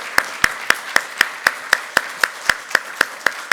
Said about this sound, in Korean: 큰 박수를 한번 보내는